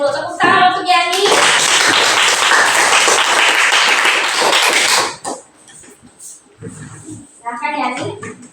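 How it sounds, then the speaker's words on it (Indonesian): Classroom applause for a student, a dense burst of many hands clapping for about four seconds, loud and close, with a teacher's voice talking before and after. "Tepuk tangan untuk Yani."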